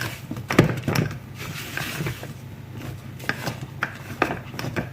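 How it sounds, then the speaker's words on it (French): Spatula or spoon folding almond powders into meringue in a bowl for salted caramel macarons, giving soft repeated scraping and stirring rubs with a few light clinks against the bowl, close and moderately loud. "On va mélanger d'abord les poudres et ma meringue."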